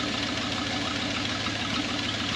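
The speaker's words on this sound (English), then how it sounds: "I definitely hear a knock." An old 1978 Chevy K10 305 V8 truck engine idles steadily close by with a rough, rhythmic knocking beneath its low rumble and no pauses.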